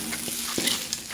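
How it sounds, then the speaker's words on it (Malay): Singapore-style fried rice vermicelli stir-fried in a pan over low heat, a steady close sizzle broken by brief scraping stirs of the noodles. "kita gaul perlahan-lahan ini dalam api yang terlalu perlahan"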